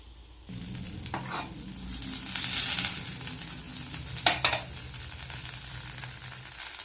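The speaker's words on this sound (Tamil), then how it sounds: "ஃப்ரை பேனில் கொஞ்சம் பட்டர் சேர்த்துக்கிறேன்." Butter sizzles steadily in a frying pan, a soft crackling hiss with occasional louder spitting and stirring scrapes, close and fairly quiet, no talking.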